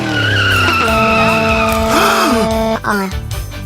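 A stolen car tears away with loud squealing tires, a long high screech sliding in pitch over the roaring engine, then cutting off with a thud before rougher rumbling continues.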